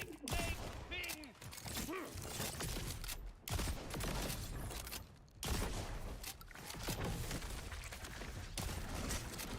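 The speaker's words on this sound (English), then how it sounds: "Throwing a frag, mate." A frag grenade in Borderlands 4 lands amid a gunfight, with rapid bursts of gunfire, a sharp explosion and clattering game effects, while a player talks over the action.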